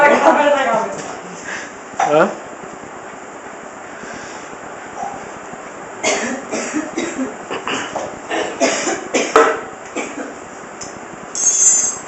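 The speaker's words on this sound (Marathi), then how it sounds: "खोकला लागला." Someone coughs close by in several rough fits spread across the stretch, and talk mixes in between the bursts.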